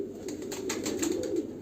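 Pigeons cooing in a loft, soft low throaty coos repeating steadily at close range with no voices.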